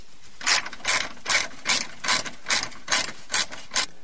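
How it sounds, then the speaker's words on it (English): A ratchet spins out self-tapping screws from the under tray of a Mercedes-Benz S500, giving eight close, crisp clicking bursts at a steady half-second rhythm. "There's 6 self-tapping screws, and you're going to want to remove all of them."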